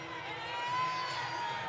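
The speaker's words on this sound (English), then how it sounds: "The Hope cheerleaders and the Trine cheerleaders doing their best to pump up the crowd here." A basketball arena crowd at a Hope College versus Trine University men's tournament semifinal, cheerleaders rousing the fans, producing a continuous distant roar of cheering that swells slightly midway.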